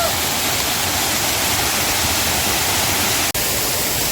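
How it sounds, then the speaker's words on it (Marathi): Waterfall below a trekking trail near Nageshwar, Choravane in Ratnagiri, a steady broadband roar of rushing water that fills the scene at a constant level, broken by a brief click. "ह्या खाली बाजूला वॉटरफॉल"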